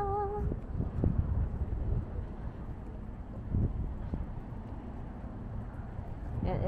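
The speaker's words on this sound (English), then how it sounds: "And it is so windy." Steady wind buffeting the microphone at night by the Han River in Seoul, a low rushing roar with occasional gusts, faint and continuous with no talking.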